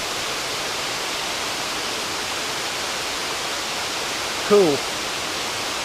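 Crabtree Falls roars as a steady, even rush of falling water heard close by, with a single brief spoken word near the end.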